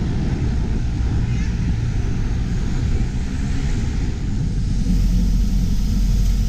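A small passenger plane taking off from an Outer Hebrides island, heard from inside as a steady, loud, broadband engine roar and rumble that stays constant throughout, rising slightly toward the end.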